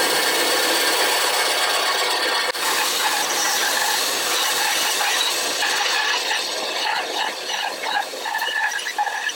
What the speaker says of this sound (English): Get the bandsaw.